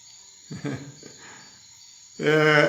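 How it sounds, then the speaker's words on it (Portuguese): A cricket in the Atlantic Forest chirps as a steady high continuous trill behind a live meditation session, with brief bits of speech over it and a louder voice near the end. "Alguém está comentando que gosta do som do grilo"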